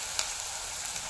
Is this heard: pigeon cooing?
no